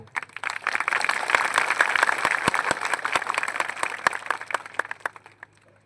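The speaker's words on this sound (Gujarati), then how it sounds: "જોરદાર તાળીઓના ગણગણાટથી એમનું સ્વાગત કરી લઈએ મિત્રો" A crowd at a political rally in Nasvadi claps, the applause rising quickly into a dense, loud patter of many hands that holds steady and then tapers off near the end.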